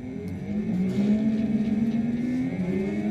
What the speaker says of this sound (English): I'm going to have the motor turned on now so you can see how it rotates.